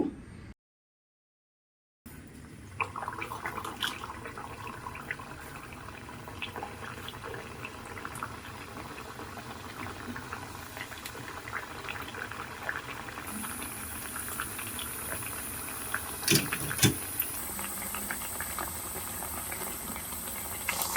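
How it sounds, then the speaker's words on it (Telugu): Mangalore banana buns frying in hot oil in a kadai: after a short silence, a continuous, close bubbling sizzle runs steadily through to the end, with a few faint knocks. "ఇప్పుడు మనం నూనె కాగింది నూనెలో వేసుకుందాము ఇదిగోండి బాండ్లీ పెట్టుకున్నాను ఆయిల్ కూడా వేడెక్కింది"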